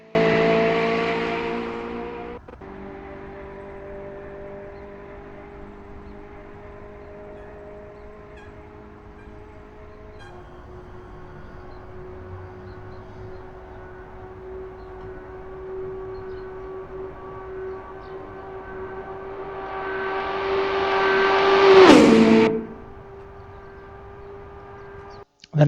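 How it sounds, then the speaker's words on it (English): A Lancia LC2 Group C race car engine on a hotlap of the Nürburgring Nordschleife, a steady droning tone with a rising howl that peaks sharply near the end before cutting off. "I'll let you listen to the engine noise now"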